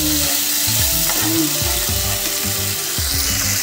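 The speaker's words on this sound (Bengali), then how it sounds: "এবার ভালো করে কষিয়ে নেব।" Ginger paste and soybean masala sizzle and fry steadily in a pan while a spatula stirs and scrapes in a repeated rhythm, close and lively.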